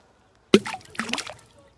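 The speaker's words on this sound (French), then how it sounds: "ma balle a fini sa course dans l'eau" A golf ball drops into a water hazard on a course with a sharp plop, followed by a short burst of splashing and trickling water, close-up and alone without talk.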